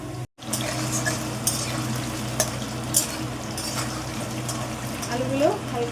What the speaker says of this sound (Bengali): আলুগুলো হালকা ভেজে নিচ্ছি